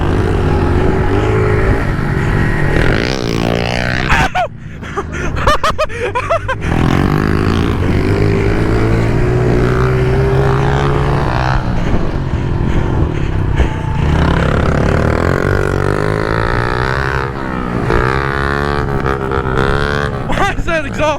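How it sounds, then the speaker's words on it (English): A loud, buzzing pit bike exhaust revs and drones almost continuously, rising and falling in pitch, close by, with voices speaking over it. "Why is that exhaust so loud?"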